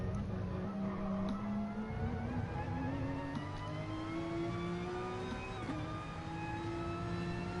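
Onboard engine of a Porsche race car at Spa, a continuous droning note that climbs steadily in pitch through the gears, with a brief dip around a shift before rising again, heard without any talking.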